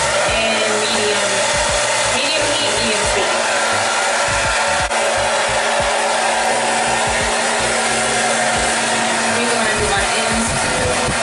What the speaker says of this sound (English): And now I'm going to use my blow dryer. Medium heat and medium.